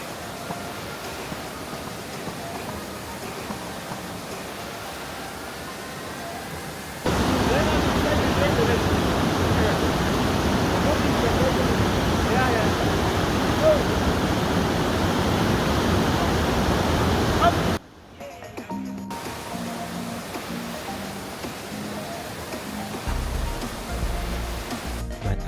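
Rushing river water during a crossing on the hike to Tugela Falls, a steady broadband wash that swells louder mid-way, then drops to a quieter flow with faint handling knocks near the end.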